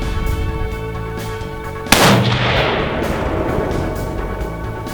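A single loud Ruger American hunting rifle shot cracks sharply at an outdoor range, then a long rumbling echo decays over several seconds.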